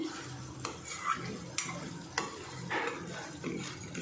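Cream is beaten and stirred into a simmering Afghani egg masala, producing soft, repeated scraping strokes of a spoon against the pan over a low bubbling sizzle, close and fairly quiet.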